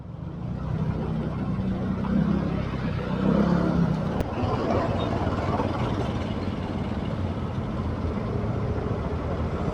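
A continuous, steady rumble of heavy, congested road traffic on a busy city highway, with idling and crawling engines all around and a brief click partway through.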